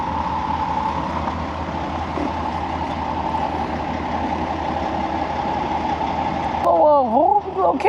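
A salvage vehicle won at auction rumbles with a steady engine drone as it drives around in a circle, close and continuous, with a brief rising whine near the end.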